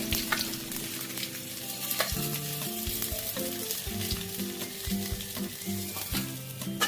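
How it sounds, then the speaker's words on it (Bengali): Pabda fish frying in hot oil in a pan, with a steady close crackling sizzle, occasional spatter pops and light tapping of a utensil throughout, no talk. "পাবদা মাছ ভাজার সময় খুব থাকে কিন্তু বন্ধুরা একটু সাবধানে ভাজবে"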